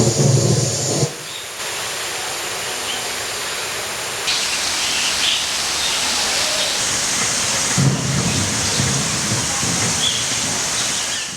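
Heavy rain pours down in a bird park aviary, a steady broadband hiss with a low thunder rumble in the opening second and again briefly around eight seconds, no voices.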